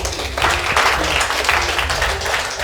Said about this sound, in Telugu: కొట్టండి మరి క్లాప్స్ గట్టిగా